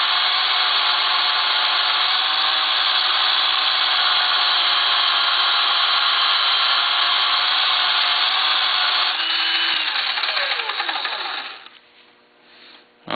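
A V-tool carving edge polished on a power-driven wheel or hone, making a continuous loud whirring hum that winds down near the end.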